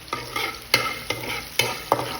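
Garlic sizzling as it goes into a frying pot of hot oil for ginataang tilapia, a continuous close hiss broken by about five rhythmic stirring scrapes, no one speaking.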